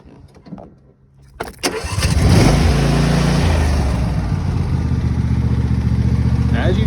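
A cold John Deere S130 lawn tractor engine cranks briefly on choke, then fires and settles into a loud, steady idle close by with no talking.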